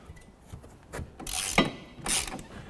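A ratchet working loose a rear suspension bolt on a BMW Mini Cooper S in a workshop, with a few bursts of clicking pawl strokes and metallic rasping, close and fairly quiet, with no voices.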